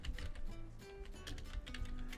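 Rapid typing on a computer keyboard while filling in a table in Microsoft Word, a dense run of close, crisp key clicks with no pauses and no talking.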